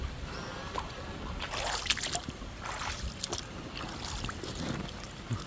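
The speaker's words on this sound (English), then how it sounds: "You've even got some water sloshing around the back there, look." Water sloshing and splashing in the bed of a Hummer EV pickup during a deep water crossing, with soft irregular swishes and splashes close by against a constant rumbling background.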